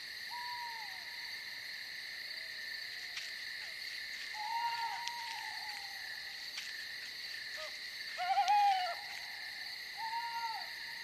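An owl gives soft, faint hoots in the wild, several short calls spread across the stretch with a slightly louder pair near the end, over a steady insect-like background hum.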